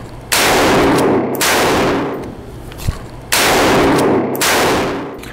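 A lever-action rifle fires at a target outdoors, two loud cracks about three seconds apart, each followed by a long ringing echo, with a brief sharp metallic clack between them as the lever is likely cycled.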